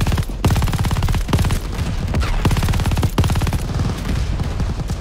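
Sustained automatic gunfire roars through a Call of Duty: Vanguard jungle battle, loud and dense with rapid bursts broken by a few brief pauses, no voices over it.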